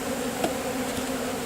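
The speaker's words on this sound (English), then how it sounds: "The bees will fly out of it and come up in the hive" Steady buzzing from many honeybees being installed from a package into a hive, a continuous droning hum with a faint brief tap partway through, no voices.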